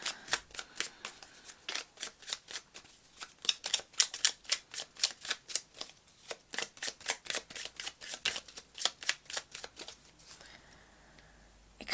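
Tarot cards are shuffled by hand in a quick run of crisp riffling flicks, close and fairly quiet, tapering off at the end with no talk.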